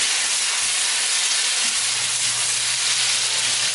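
Tomatoes tipped into a hot pan with golden garlic, a loud, close, continuous sizzle and steamy hiss that holds steady throughout.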